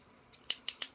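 Scissors cutting wrapping paper: four quick, crisp snips in close succession, near and clear against a quiet background, with no talking.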